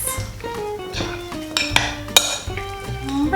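Metal utensils clink and scrape against a bowl or pan as pasta marinade with olive oil is mixed, a busy run of close, bright clatters and rings with no talking.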